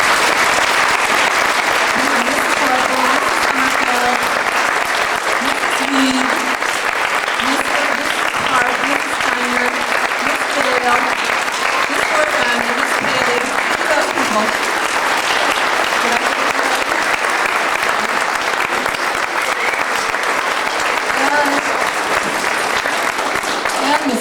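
An audience at a school music performance applauds its teachers, a dense, steady clapping from the crowd that fills the room without a break for the whole stretch, with some voices mixed in beneath it.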